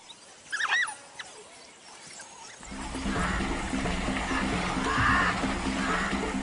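African wild dog chirping calls, a cluster of high bird-like chirps early on, fairly faint, followed by a louder broad wash of noise.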